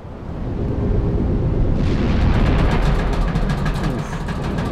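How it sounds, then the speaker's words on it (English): Military airstrike explosion in the game Black Mesa, a deep rumbling blast that swells, then crackles with debris and a long booming tail, loud and alone. "I forgot the military is doing airstrikes to wipe us out"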